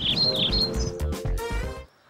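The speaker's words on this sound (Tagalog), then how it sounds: "pag tweet-tweet ng mga ibon" Small birds chirp and tweet in quick bursts over a steady low rhythmic pulsing, the calls bright and close, ending in near silence.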